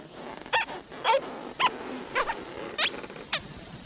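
Cartoon shoes on a growing Mickey Mouse suit squeak in a run of six short, high, rubbery chirps spaced about half a second apart, fairly close and clear.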